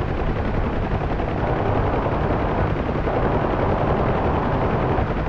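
A UH-1H Huey door gunner fires in DCS World, a dense, continuous roar of rapid machine-gun fire blended with the heavy thrum of the helicopter, loud and unbroken throughout.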